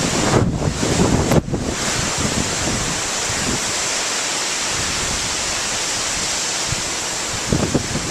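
Gusting wind and pounding ocean surf from Tropical Storm Debby on Anna Maria Island near Bradenton, a loud continuous roar of waves with heavy wind buffeting the microphone, sharper gust bursts at the start and end.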